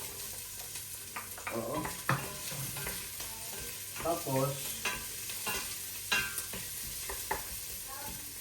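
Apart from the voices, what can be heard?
sautéing onion, garlic and ginger in a pan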